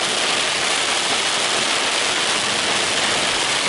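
Heavy rain pours down at a seaside fishing camp as a dense, unbroken hiss that fills the whole clip at close range, with no voices.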